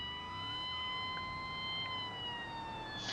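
A vehicle siren wails in the BeamNG driving game, a steady sustained electronic tone that holds alone and fairly loud with only faint engine rumble beneath.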